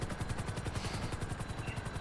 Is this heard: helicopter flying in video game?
yes